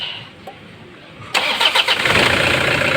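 A Toyota Hilux 2.5 diesel pickup engine cranks and catches after a quiet moment, then settles into a steady rumbling idle, fairly close by, with no talking.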